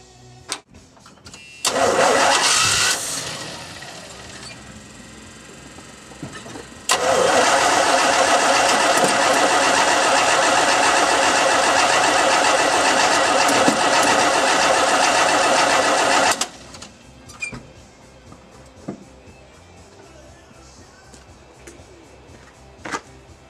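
The engine of a 1976 Chevy C30 dually truck cranks briefly, then catches and revs loudly and steadily for about ten seconds before it shuts off. Quiet clicks and handling noises follow.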